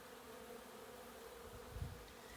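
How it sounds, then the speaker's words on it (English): Bees around a garden beehive in a potager, giving a faint, steady low buzz that hums continuously throughout. "the bees are settled in here"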